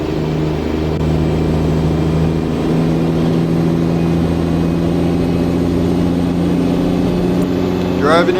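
A Mack truck in American Truck Simulator drives along, its engine holding a steady low drone with a continuous harmonic hum throughout, loud and close, with a brief higher whine near the end.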